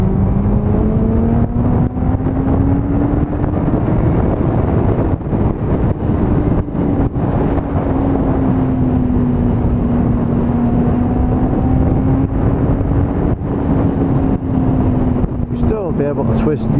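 A 650cc motorcycle engine held in third gear at 7,000 to 8,000 rpm, droning steadily with a wavering pitch under strong wind buffeting, while a rider talks over it.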